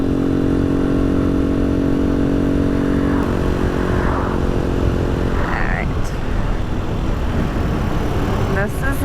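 A Halcyon 250 motorcycle riding along curvy Vermont roads hums with a steady engine drone that shifts pitch through gear changes, heard up close with wind noise and talking over it.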